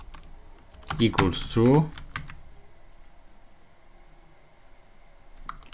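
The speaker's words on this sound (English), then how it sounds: "I'm gonna type game close" Python code being typed on a computer keyboard, with rapid, light key clicks running through while someone speaks briefly near the start.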